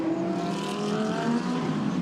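GT race cars, among them a Ferrari stuck in traffic, howl past at the 24 Hours of Spa with loud, sustained engine notes that rise and shift in pitch as several cars pass close by.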